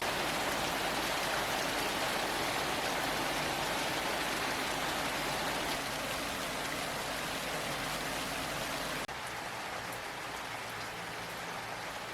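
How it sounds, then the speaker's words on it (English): Heavy rain falls outside, a dense, even hiss of pouring water that stays steady and fairly loud throughout, with no voices. "enjoy this rain because it just started raining really hard"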